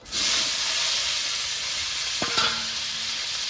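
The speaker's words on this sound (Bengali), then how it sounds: "এবার মাছ ভাজা তেলের মধ্যে" Yardlong beans dropped into hot oil left over from frying fish, giving a loud steady sizzle and hiss with a brief clatter and stir partway through, close up and without speech.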